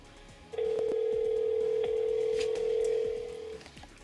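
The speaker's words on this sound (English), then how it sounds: "So we're waiting for the call to time out on my phone" A steady single-pitch ringing tone from a Nexus 4 phone on the Solavei network plays as an outgoing call waits to time out. It sounds continuously for about three seconds at moderate loudness, then stops, with no talk.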